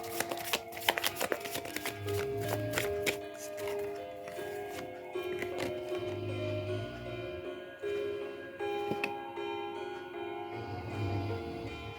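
Tarot cards shuffled by hand, soft papery riffles and slides repeating close by, with quiet sustained music tones playing underneath.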